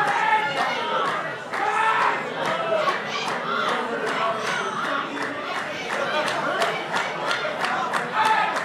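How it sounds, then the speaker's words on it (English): A wrestling crowd at an independent show, a packed room of fans chanting and cheering in a steady roar with rhythmic clapping and shouts throughout, close and loud. "This crowd looking to take control right now, trying to get Red going"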